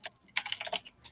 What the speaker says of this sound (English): Travis, your keyboard is so loud